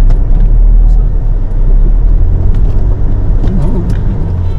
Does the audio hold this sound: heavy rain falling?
no